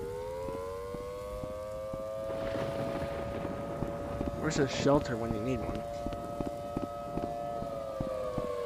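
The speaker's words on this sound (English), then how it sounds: "There's a siren" Civil defense siren wailing in a Rec Room video game tornado map, a steady droning tone held throughout under rain-like noise, while someone talks over it briefly.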